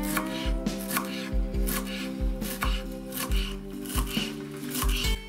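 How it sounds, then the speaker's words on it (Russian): A knife chops fresh dill on a cutting board in a steady, close rhythm of about ten sharp strikes, with no voices over it. "Теперь мы берем укроп и нарезаем его."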